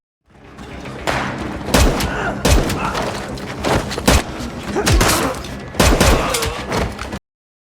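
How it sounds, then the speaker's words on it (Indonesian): A film shootout sends repeated sharp gunshots and booming bursts cracking at close range one after another, loud and broadband over a steady, dense background of battle noise. "Baku tembak langsung terjadi antara tim Jordan dan pasukan penjahat"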